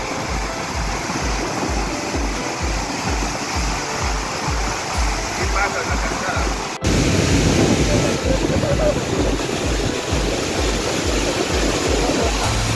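A constant roaring rush of the Pailón del Diablo waterfall in Baños, Ecuador, loud broadband noise with rumbling wind on the microphone, growing stronger midway.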